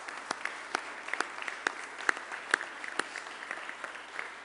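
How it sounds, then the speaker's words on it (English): Sparse, quiet applause from a small crowd at a governor's press event on gun safety bills, individual claps standing out as a thin, scattered patter. "Let's give them a round of applause, too, please."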